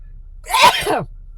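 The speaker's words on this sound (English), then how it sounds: "I don't know why there's so much sneezing right now" A single loud, close sneeze, a sharp explosive burst that stands alone against near silence.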